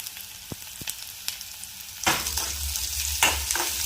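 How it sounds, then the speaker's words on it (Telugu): Onions fry in a pan with tempering for an ivy gourd curry: a few soft taps, then a sudden loud sizzle that keeps hissing steadily, with scraping stirs and a second burst near the end. "పోపు వేసుకొని ఆనియన్స్ వేసుకొని ఆనియన్స్ ఫ్రై చేయాలి"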